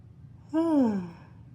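A single drawn-out yawn from a person, rising then falling in pitch over about half a second, close and fairly loud against a quiet room.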